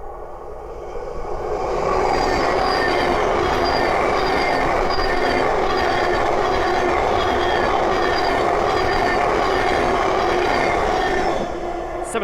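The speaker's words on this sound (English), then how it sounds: "the next train to pass by is a Thameslink 700." A Thameslink Class 700 train rolls steadily past close by on the East Coast Main Line, a loud sustained rumble with wheel noise and rhythmic clatter that swells in and holds for most of the clip.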